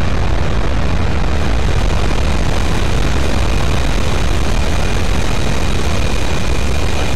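An aircraft engine in DCS World runs at full throttle, giving a loud, steady, close propeller drone that never lets up, with a faint high whine riding on top.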